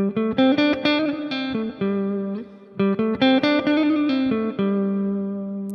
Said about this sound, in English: we're combining slides and vibrato